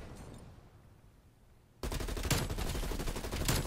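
Rapid automatic XM4 rifle fire in a video game bursts in abruptly after a quiet stretch, loud fast repeating shots with a few sharper cracks standing out.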